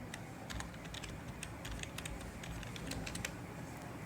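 Close typing on a computer keyboard, a quick irregular stream of light key clicks over a quiet background.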